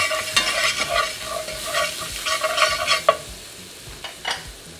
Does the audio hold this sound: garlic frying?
yes